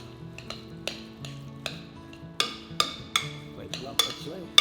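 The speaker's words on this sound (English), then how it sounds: "then we're going to give it a mix to combine everything together" A spoon mixing steak tartare in a bowl: a series of light, close taps and scrapes in an irregular rhythm, growing slightly busier toward the end, over a faint steady hum.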